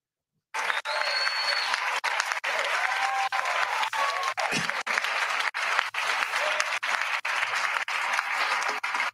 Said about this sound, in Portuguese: palmas para o Lula